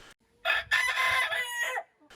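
A rooster crows loud and close on a backyard homestead, one long drawn-out call with clucking chickens around it and no talking.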